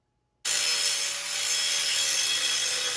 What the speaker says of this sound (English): I'm just going to try to grind these welds down as much as I can